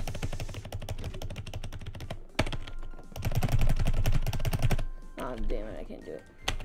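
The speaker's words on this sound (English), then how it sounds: "press shift so many times" Computer keyboard clicks in a rapid, even run as the shift key is tapped over and over for sticky keys, loud and close, with a voice talking over parts of it.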